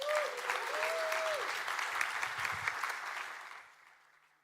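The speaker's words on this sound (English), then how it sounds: "Give them another round of applause." Audience applause at the React Universe tech conference, a full sustained round of clapping from a crowd that gradually fades out over a few seconds, with a faint voice briefly underneath.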